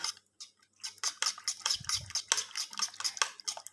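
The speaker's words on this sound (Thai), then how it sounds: "ตีไข่ให้เข้ากับเครื่องเลยนะคะ" Eggs with makrut lime leaves, scallions, fresh chilies and fish sauce are beaten in a bowl, giving a quick run of close, sharp clinks and taps of a utensil against the bowl, alone.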